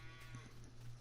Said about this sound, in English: guys, these are not my cows. Look it, we got the Brahma cows